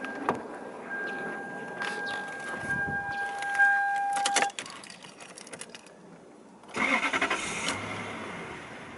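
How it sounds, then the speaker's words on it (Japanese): A 2001 Toyota Celsior 4.3 V8 with air suspension cranks with a whine and chime, catches after a few seconds with a brief rev, and settles into a smooth idle, recorded close by. "エンジンをかけてみます。"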